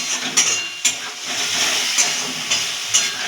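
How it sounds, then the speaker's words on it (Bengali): Spice masala sizzles and hisses steadily as it fries on medium heat for a fish curry, a continuous close crackle broken by a few brief louder pops. "আঁচটাকে মিডিয়াম আঁচে দিয়ে আমরা মশলাটাকে ভালো করে কষিয়ে নেব।"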